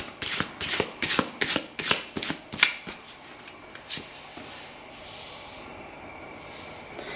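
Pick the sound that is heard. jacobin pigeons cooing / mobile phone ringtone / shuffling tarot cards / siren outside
shuffling tarot cards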